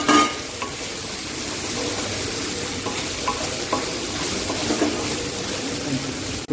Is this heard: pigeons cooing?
no